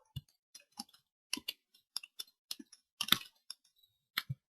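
Sharp, isolated mouse clicks at an irregular pace while a user steps through the Oracle Data Integrator repository setup wizard on a computer, close and fairly quiet, with no talking.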